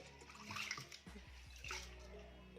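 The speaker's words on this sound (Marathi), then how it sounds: "छान हाताने चोळून स्वच्छ पाणी येईपर्यंत डाळ देखील धुवून घ्यायची आहे" Chana dal being rubbed and rinsed by hand in water, with soft sloshing and swishing and a few small drips, quiet and close, without talking.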